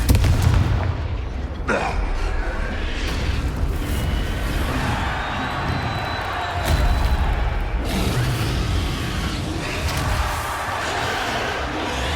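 Spells cast in Hogwarts Legacy combat, a fiery Confringo blast and a Stupefy stun. The magic lands as a string of loud booming bursts and crackling impacts over a constant rumbling battle din, with no talking.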